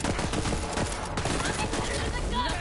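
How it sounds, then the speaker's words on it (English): Dense rapid gunfire in a Borderlands 3 firefight, a steady barrage of overlapping shots and bursts running the whole time at close range, with a voice speaking over it. "Stop shooting at me!"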